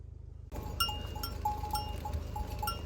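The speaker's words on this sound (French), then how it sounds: "Oh putain les moutons." A transhumance flock of sheep on the move in Zakynthos, Greece, soft bleats and tinkling bells over a steady low rumble, heard from a short distance with no talk.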